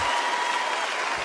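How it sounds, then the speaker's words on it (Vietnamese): A crowd at a singing competition bursts into steady, dense applause after a young contestant's bolero performance, a continuous wash of many hands without pause. "Một tràng pháo tay cho Trung Hậu."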